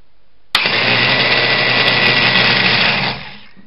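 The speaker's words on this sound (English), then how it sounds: "we'll reverse the polarity, and being a permanent magnet DC motor, brushed one, should turn the other way" A modified brushed permanent magnet DC electric starter motor, with sprocket attached and its polarity reversed, snaps on and whirs at a steady high speed for about two and a half seconds before spinning down.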